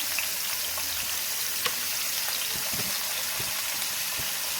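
Roasted ground spices are stirred into a carrot and garlic pickle over a medium gas flame, giving a steady, close sizzle of hot oil with occasional soft scraping and stirring knocks.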